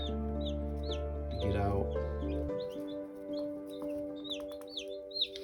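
Newly hatched meat chicken chicks peeping in rapid, high, scattered chirps close by, under a low hum at the start, with a person speaking briefly.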